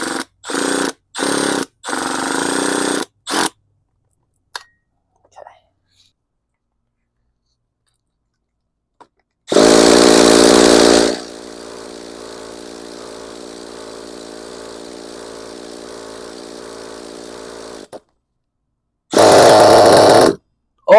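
A Losi LST nitro RC truck engine, cranked with a Milwaukee drill, is heard in several short spinning bursts, then loud, close revving with a rough idle between, and a final loud burst after a silent pause.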